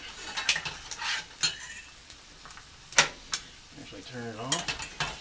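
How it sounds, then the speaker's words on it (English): A utensil scrapes and clinks around a pan while gravy for biscuits is stirred on the stove, with irregular metallic taps and a faint sizzle in between. "Stir it up."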